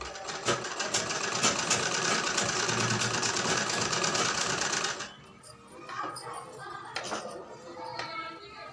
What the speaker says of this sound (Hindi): इस तरह से हम इसको स्टिच कर लेंगे।